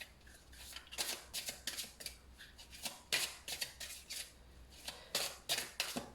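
Oracle cards being shuffled by hand, soft papery riffles and rubs arriving in quick irregular bursts with short pauses between, close and quiet with no talking.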